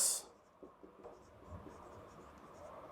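Chalk or marker scratches faintly across a classroom board during an electrical engineering lecture on D.C. circuits, a few soft, uneven strokes at close-to-middle distance over quiet room tone.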